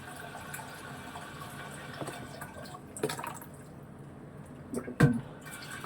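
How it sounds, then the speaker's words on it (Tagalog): Water runs steadily from a kitchen tap into a pot being filled for boiling in a Hong Kong home, a soft continuous stream with a few small clinks near the end. "Magpakulo na pala tayo ng tubig."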